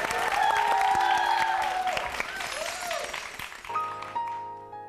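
An audience applauds to welcome a singer onto a talk-show stage: dense, sustained clapping. A sung melodic line rises over it, and about three-quarters of the way through the music changes into a steady instrumental intro.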